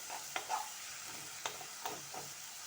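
Egg frying in a pan with a soft, steady sizzle, broken by a few light scraping stirs of a spatula, heard close and alone without any voices.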